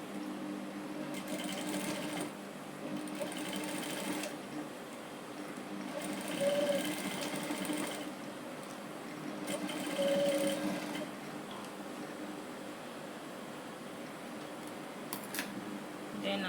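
A sewing machine stitches an elastic waistband onto shorts in several bursts of fast, even whirring, with short pauses and soft handling noises between runs, close and moderately quiet.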